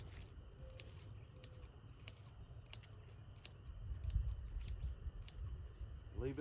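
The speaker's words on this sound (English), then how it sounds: "take these shears. We're just going to go in there and just cut the tops off of them." Garden shears snip the tops off clover plants in a winter-sown squash and zucchini garden: sharp, crisp cuts repeat at an irregular pace over a low outdoor rumble.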